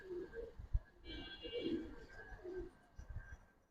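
Giribaz flying pigeons cooing nearby in soft, repeated low coos spread over a few seconds, fairly quiet with faint background noise.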